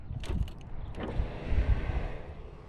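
A powered rear tailgate window on a 2007 Toyota 4Runner lowers with a short, close electric motor whir and a couple of soft mechanical clunks, brief and fairly quiet.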